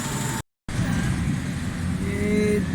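Steady low hum of a three-cylinder Suzuki Cultus car engine running with a faulty Chinese carburetor, close and continuous, cut by one brief silent gap.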